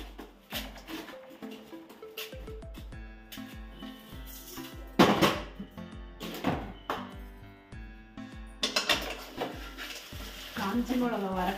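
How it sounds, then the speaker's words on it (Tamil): Dried red chillies are dry-roasted in a pan and stirred, with repeated scraping, rattling and clattering of utensil against pan, some louder knocks, and no talk. "காஞ்சி மிளகாய் வறுக்கும் போது நல்லா காட்டா இருக்கும்."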